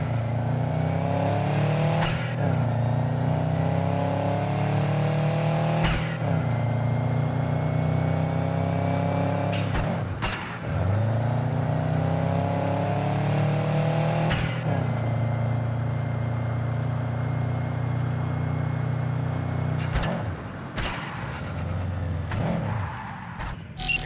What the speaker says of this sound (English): Go ahead, kill the engine.